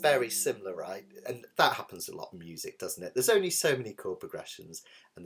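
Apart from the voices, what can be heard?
No everyday noise stands out behind the speech.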